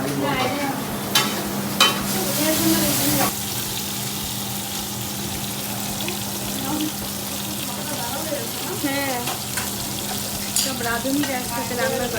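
Food frying in mustard oil in a home kitchen, a steady close sizzle with occasional stirring scrapes and clatter, faint voices in the background.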